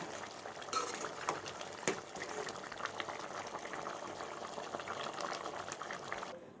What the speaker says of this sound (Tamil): காடை நல்லா கொதிக்குது.